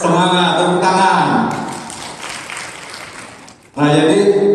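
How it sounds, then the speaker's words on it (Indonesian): A seminar audience at a hotel event gives a burst of applause, heard as a broad wash of clapping in the middle of the clip, set between stretches of someone talking loudly into a microphone. "Semangat, tepuk tangan."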